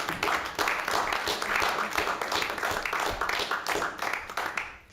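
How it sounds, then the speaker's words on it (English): People at a school board meeting applaud in a room, with a moderately loud, continuous patter of clapping that lasts several seconds and some murmur mixed in. "Jonathan wants to give everyone a round of applause."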